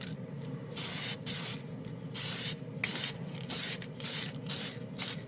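Testors Extreme Lacquer aerosol can sprays another coat in a string of short hissing bursts, roughly a second each with brief pauses between, close and steady over a low background hum.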